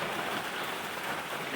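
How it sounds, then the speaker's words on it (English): Rain falls outdoors, a dense, even hiss of drops on surfaces, close and steady throughout without any talk, at an outdoor log-sawing site for cabin lumber. "Sorry for the rain noise."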